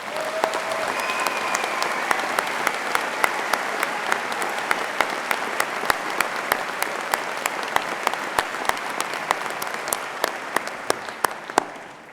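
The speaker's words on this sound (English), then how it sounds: "Please join me in giving them a warm round of applause" Graduation ceremony audience gives Birmingham Conservatoire musicians a warm, steady round of applause in a large hall, a full sustained clapping with a few sharper individual claps standing out until it tails off.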